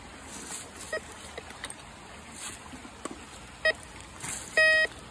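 A metal detector sweeping in a river gives a few short, thin electronic beeps over a faint outdoor hiss, the clearest tones clustered near the end.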